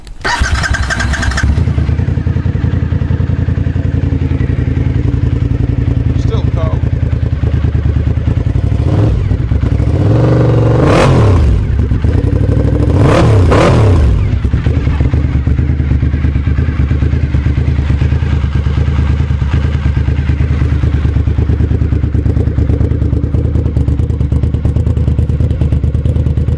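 A Suzuki SV1000 motorcycle engine, started cold, cranks and catches, then revs up sharply a couple of times before settling into a loud, steady rumbling idle; a brief spoken remark comes early.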